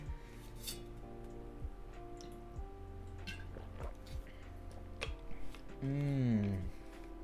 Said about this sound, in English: let me drink some water real quick